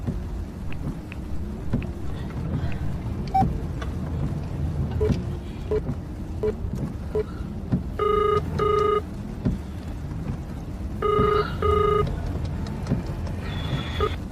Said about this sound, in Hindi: मैं अभी राहुल को फोन करती हूँ।